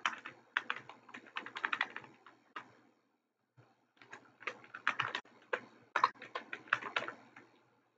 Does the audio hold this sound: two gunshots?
no